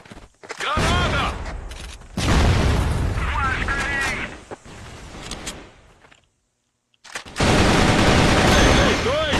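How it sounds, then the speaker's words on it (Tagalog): Grenade blast and bursts of rapid gunfire in the online shooter Crossfire, loud booms and sustained automatic fire with a brief silent gap, over excited talk between players. "Granada!"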